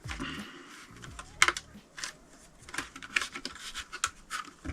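Corsair Vengeance DDR4 RAM modules being unpacked, with soft plastic and cardboard packaging rustling, scratching and clicking close by in irregular bursts, no talk.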